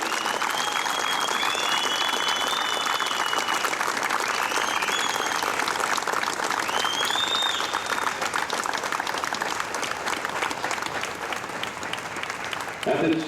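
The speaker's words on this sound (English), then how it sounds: "please join me once again in a big round of applause for these two families" A crowd at a military flag ceremony during a softball nationals event applauds military families with steady, dense clapping and scattered cheers, continuing loudly for the full stretch with a slight dip near the end.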